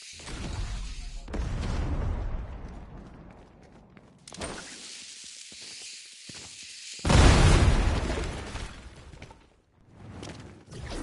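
Grenade blasts in Fortnite, a creative-mode map: several loud bursts with a big broadband boom near seven seconds, separated by quieter rumbling decay and gaps, with no talking.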